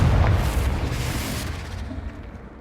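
A Confringo blasting spell explodes in Hogwarts Legacy, a single loud, close boom with a deep rumble that slowly fades over a couple of seconds.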